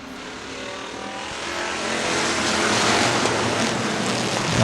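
A race car engine at a street-class drag racing track, fired up and revving loud and close, its roar swelling steadily over several seconds with no voices.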